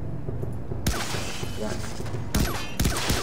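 Gunfire in the video game Far Cry 3: Blood Dragon, with dense bursts of shots and heavy impacts breaking in after a quieter start, loud and close, over a busy game soundscape.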